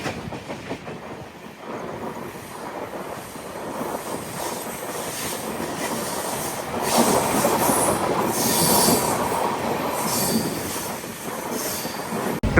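Cocanada Superfast Express rolling along on its Kakinada Town to Lingampalli run, with a steady rumble of wheels and cars and a brief squeal, growing louder and rougher partway through and keeping up its broad noise without any voices.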